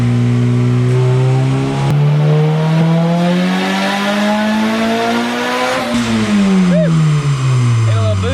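Budget-build race car accelerating hard, engine note climbing steadily through the revs close up and loud, with a brief gear change near the end before pulling again.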